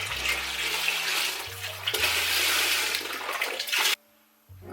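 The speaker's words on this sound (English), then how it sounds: "I'm going to add all of this bone broth." Bone broth splashes steadily into a stock pot in a continuous rushing pour, with a brief dip partway through. The pour cuts off abruptly near the end.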